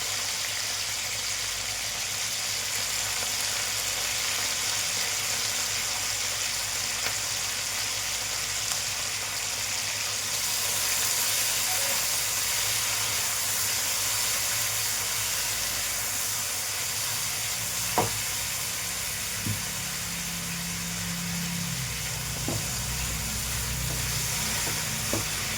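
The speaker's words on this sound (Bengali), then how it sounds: "এবার এই তেলের মধ্যেই ফোড়ন দেব হচ্ছে শুকনো লঙ্কা, পেঁয়াজ" Dried red chillies, onion and tomato frying in hot oil in a pan, giving a steady broadband sizzle and hiss throughout with a few faint clinks near the end, no talking.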